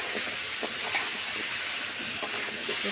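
Chopped vegetables hit a hot pan and sizzle, a steady broadband hiss that fills the scene evenly throughout, close and moderately loud with faint clinks beneath.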